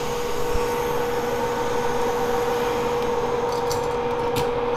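A hot air blower runs steadily at full airflow, set to 120 degrees, to dry out a wet flash drive, making a loud continuous whooshing hum with a faint tonal whine close to the microphone.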